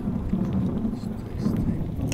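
A thunderstorm with rain rumbles low and continuously, rising and falling in broad waves under a steady wash of rainfall, while people talk over it.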